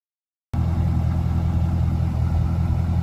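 A C5 Corvette convertible on C6 Z06 rims idles steadily after a brief silence, its deep, even engine rumble close and loud with no other sounds.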